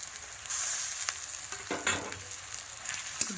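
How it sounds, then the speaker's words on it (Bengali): Green chilli and chopped onion fry in hot oil with a loud, crackling sizzle, broken by scrapes and clatters of a utensil stirring in the pan. "কাঁচা লঙ্কা পেঁয়াজ কুচি তেলে ভেজে নেব রসুন বাটা আর আদা বাটা"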